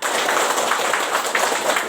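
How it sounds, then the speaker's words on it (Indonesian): A group of people clapping together in a classroom, a dense, steady burst of many hands applauding close by for about two seconds. "Tepuk tangan yang gembira"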